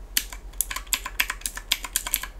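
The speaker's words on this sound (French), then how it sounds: "les 6 touches, alors on entend bien le clic" Rapid, crisp clicking of the six small buttons on a Divoom DitooPro pixel display gadget being pressed in an uneven rhythm, close and fairly loud, with no talking.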